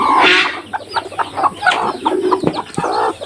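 Hen clucking softly near newly hatched chicks in a hatching setup, with short repeated clucks and faint chick peeps close by, no talk.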